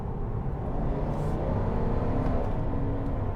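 A 2022 GMC Sierra 1500 AT4 with a 6.2 liter V8 accelerates, its exhaust giving a dense, steady low rumble heard from inside the cab, moderately loud and continuous.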